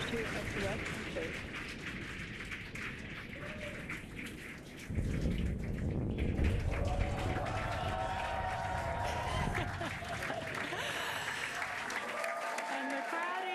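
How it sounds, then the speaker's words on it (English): A crowd cheers and applauds as a SpaceX Falcon 9 first-stage booster touches down on Landing Zone 1 after the Crew-10 launch, a broad roar swelling partway through under a commentator's voice. "the crowd here is excited to see Falcon 9 touch down on landing zone 1"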